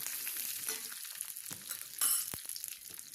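Curry leaves splutter in hot oil while a mango pulissery is being made, giving a steady close crackle with a few sharper pops and a brief louder burst toward the end, with no talking.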